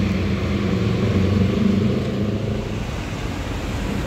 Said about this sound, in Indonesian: Dari timurnya ada bus Budiman